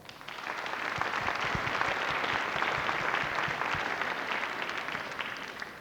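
A church audience in Rotterdam in 1997 applauds the sound team, the clapping swelling quickly into a dense, even wash of many hands and then easing slightly toward the end.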